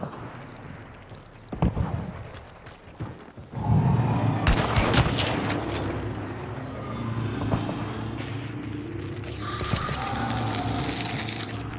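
A grenade blast and gunfire in the Hunt: Showdown shooter game, with sharp shots early, then a loud, heavy explosion rumbling on into sustained noise and mechanical clatter, close and dense, without talk.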